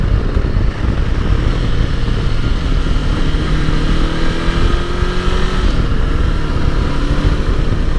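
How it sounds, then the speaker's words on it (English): A Honda NX 500 adventure motorcycle's engine burbles and crackles on the overrun, a loud, continuous low rumble with wind noise that carries steadily throughout, with no talking. "Get a nice bit of burbling on the overrun as well, which is what I was just trying to show there."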